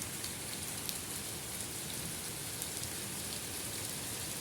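Steady rain falls outdoors where a lapwing stands, an even, dense hiss of drops with no pauses and no voices.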